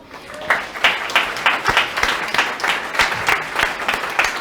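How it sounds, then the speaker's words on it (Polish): A conference audience applauds a special guest in a hall, with steady, fairly close clapping that keeps an even rhythm, and a voice speaks briefly over it. "Wielkie brawa."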